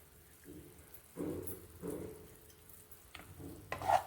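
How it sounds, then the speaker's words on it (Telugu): Grated coconut and sugar being stirred and fried in a pan for coconut burfi, a soft intermittent sizzle with spoon scrapes coming in short bursts, quiet and close. "ఇలా వేయించుకోవాలి కమ్మగా వాసన వచ్చేదాకా"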